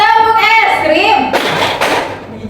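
Children's ice-cream clapping chant in a classroom, sung voices with a few sharp hand claps near the end, close and loud.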